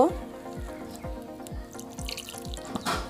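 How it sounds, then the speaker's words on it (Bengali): Water is added bit by bit to flour to make a cauliflower pakora batter. It sounds like a close series of regular drips and small splashes, about two each second, with light clinks at the end. "এবার অল্প অল্প জল অ্যাড করে একটা ব্যাটার তৈরি করে নেব"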